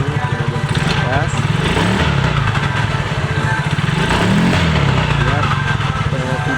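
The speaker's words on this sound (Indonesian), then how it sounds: "setelah dimasukkan oli baru kita tes untuk motornya kita hidupkan dulu, kemudian kita gas" A Yamaha Mio Soul GT scooter, freshly refilled with new oil, running loud and close with a buzzing engine note that rises and falls through a couple of throttle blips.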